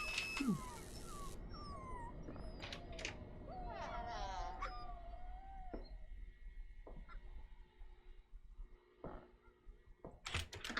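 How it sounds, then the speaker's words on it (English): Small dogs yap, whimper and yip in scattered bursts in the video game Mists of Aiden, mixed with other animal calls and faint background noise, moderately distant. "So those yapping dogs."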